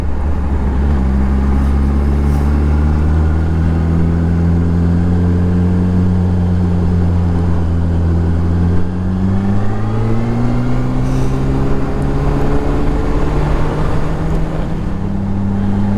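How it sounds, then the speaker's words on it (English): A Honda CBR RR sport motorcycle climbs a hill with a loud, steady engine drone close to the rider, the pitch sliding slowly down and back up as the revs shift through the climb, with no talk. "And there's a hill round here. Me and Alice walked up this the other day. I'm gonna ride up it today."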